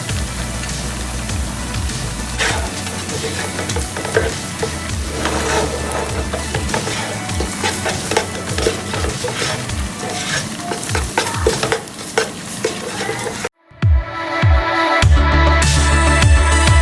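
Garlic sizzling in a hot pan for restaurant-style chilli chicken, a loud continuous fry with frequent scraping stir strokes up close, ending in a brief pause and clattering pan sounds.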